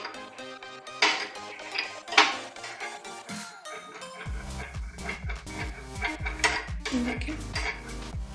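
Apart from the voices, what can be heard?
mixing homemade skin cream ingredients in a bowl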